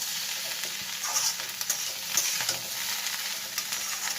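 Mixed masala sizzles steadily in a pan for an egg noodle dish, a dense close hiss with occasional light stirring scrapes and taps, no voices.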